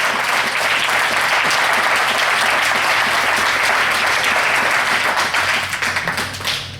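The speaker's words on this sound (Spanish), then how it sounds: "Denle un fuerte aplauso a Cristo con todo su corazón" A church congregation gives loud, sustained applause for Christ, dense clapping that fills the room steadily for several seconds before thinning toward the end.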